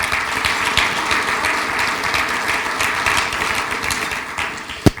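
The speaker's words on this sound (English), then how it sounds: "Please give them a round of applause." Audience applause at a quarterly workplace lunch event, sustained steady clapping from a room full of people throughout, with a sharp louder clap near the end as it tapers off.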